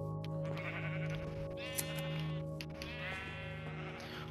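Sheep in the Minecraft video game bleat in several loud wavering cries, one after another, with a steady electronic hum underneath and no talk.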